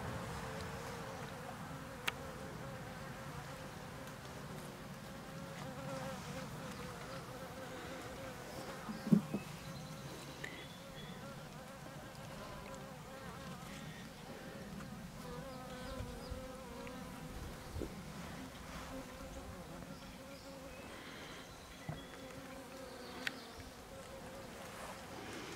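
Honeybees buzzing around an open hive while honeycomb frames are handled, a faint continuous insect hum with a few soft knocks and clicks scattered through.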